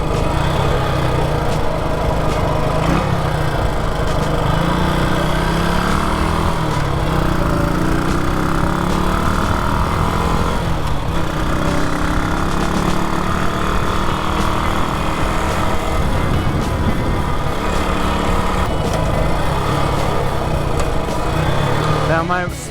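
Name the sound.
Moto Guzzi Stornello motorcycle engine idling fast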